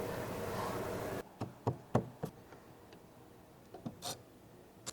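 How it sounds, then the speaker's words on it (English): Long tile miter joints creak and crack as they are folded down in a woodworking shop, a series of sharp, dry ticks and knocks spaced irregularly after a burst of broadband noise cuts off. "you can hear the creaking and cracking as I fold it down"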